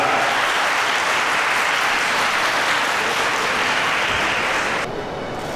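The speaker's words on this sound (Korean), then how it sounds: "따뜻한 박수 부탁드리겠습니다" Loud, sustained applause fills the hall at a Korean-Japanese wedding ceremony after the bride and groom bow to each other, a dense, even wash of clapping that eases slightly near the end.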